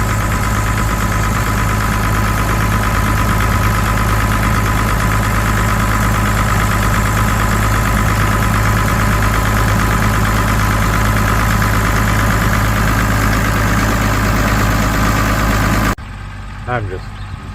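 An Allis Chalmers 185 tractor, run again after 27 years of sitting, idles close and loud with a steady diesel clatter and rumble. It cuts out abruptly near the end, leaving a quiet background.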